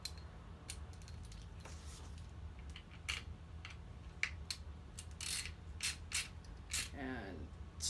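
A 4mm tool snugs up the kingpin nuts on a Bont Athena skate plate, heard as sparse close metallic clicks and ratcheting ticks, getting busier toward the end, over a low steady background hum with no speech.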